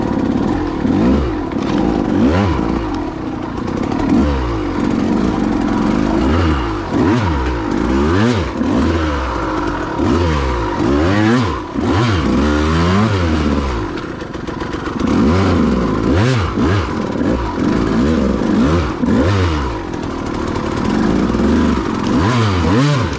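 A KTM 200 XC-W two-stroke dirt bike rides along a singletrack trail, its engine loud and close, revving and dropping in constant rapid swings, with occasional clatter and scraping.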